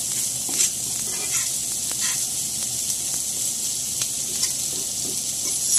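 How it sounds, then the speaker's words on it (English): Already-cooked sausage sizzling in a pan and being stirred, a constant bright frying hiss with faint scraping ticks, fairly close and steady throughout. "Stir this around."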